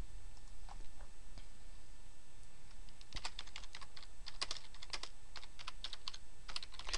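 Close, quiet typing on a computer keyboard, a few scattered keystrokes at first, then a quick, irregular flurry of clicking keys, with no talking.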